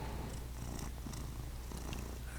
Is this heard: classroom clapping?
no